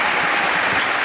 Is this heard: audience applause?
yes